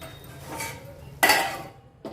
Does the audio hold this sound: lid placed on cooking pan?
yes